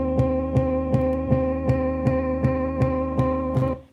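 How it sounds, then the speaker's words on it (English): Music with a sustained chord and a steady, evenly spaced pulsing beat, treated by a plugin that adds a warbling vinyl-style distortion; loud and continuous, cutting off at the end. "And so we leave that on to get that weird little vinyl distortion sound."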